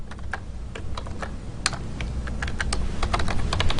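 Steady typing on a computer keyboard while code is entered, quick irregular key clicks close to the mic over a low background hum, with no voices.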